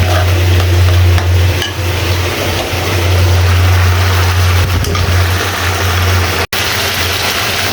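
Spices, shrimp, potato and onion sauté in a pan, with a continuous scraping stir and soft sizzle under a steady low hum, close and fairly loud, cut by one sharp click near the end.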